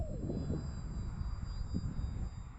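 A VMAR L-19 Bird Dog RC airplane flying at full throttle into the wind, its small engine giving a steady buzzing drone that rises and falls slightly as it passes, moderately close and continuous throughout.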